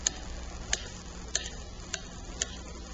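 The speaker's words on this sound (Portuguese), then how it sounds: "Vamos levar esta gelatina para o micro-ondas" A microwave oven heats gelatin over a low steady hum, with a sharp tick sounding about every half second, fairly quiet and close.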